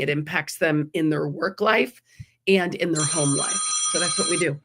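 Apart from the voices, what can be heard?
telephone ringing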